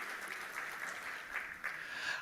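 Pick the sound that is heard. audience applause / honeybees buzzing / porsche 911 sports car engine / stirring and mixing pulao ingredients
audience applause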